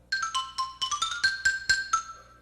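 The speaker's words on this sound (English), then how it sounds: "For instance, the xylophone" An orchestral xylophone plays a quick run of about a dozen bright, dry wooden strikes in an even rhythm, each note short and crisp, heard alone and fairly close.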